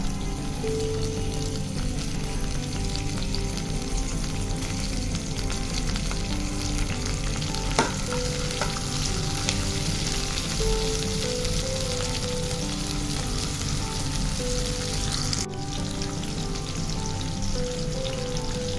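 Onion, green chilies and garlic fry in about two tablespoons of soybean oil in a pan, giving a steady, loud, dense sizzle that holds for the whole stretch, with a brief clatter near the end and no talking.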